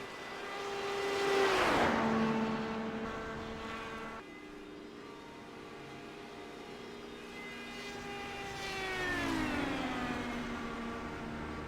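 Race cars at a circuit lap past one after another, each engine swelling loud as it nears and dropping in pitch as it moves away, with steady engine drone in between and no talk.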